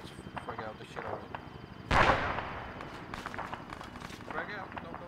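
A grenade explodes in the military shooter game Arma with a single sharp, loud blast at mid-clip that trails off. Quieter gunfire-like pops and footsteps run before and after it, and players talk over it.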